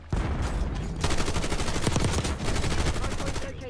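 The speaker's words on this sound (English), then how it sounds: "Teammate, shoot your gun." Rapid automatic gunfire from the video game Black Ops 6 rattles almost continuously in loud, dense bursts, with a short gap near the start and another partway through.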